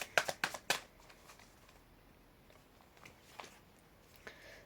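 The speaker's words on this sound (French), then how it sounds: "je remélange un peu et on va tirer 9 cartes" A deck of tarot cards is shuffled in a quick burst of crisp riffling flutters at the start, followed by faint soft handling taps.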